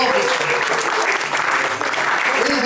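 Dense, loud applause from a jazz concert audience in Naples, steady continuous clapping filling the room with crowd voices mixed in underneath.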